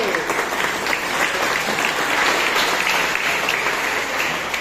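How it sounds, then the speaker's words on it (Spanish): A crowd at a quinceañera celebration applauds steadily and loudly throughout, dense clapping with no break. "¡Que se escuchen los aplausos!"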